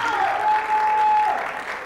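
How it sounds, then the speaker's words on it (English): Applause at a pageant competition: a crowd clapping steadily through two seconds, moderately loud, with a sustained tone running underneath. "It's okay to clap."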